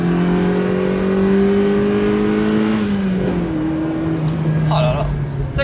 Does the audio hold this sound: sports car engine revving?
yes